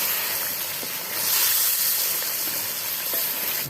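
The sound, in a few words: chicken being roasted (bhuna) in a pot for korma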